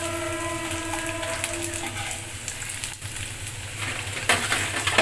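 Ginger and garlic paste fries over browned onions in a pan, giving a continuous close sizzle with a low steady hum beneath it and a few louder spattering bursts near the end, with no talking.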